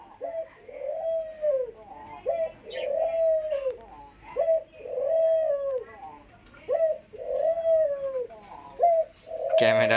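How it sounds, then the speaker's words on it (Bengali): A caged dove coos close by in a rhythmic series of soft, rounded calls repeated about every second or two, with a brief burst of other noise at the very end. "আর এই যে ঘুঘু ডাক দিতেছে"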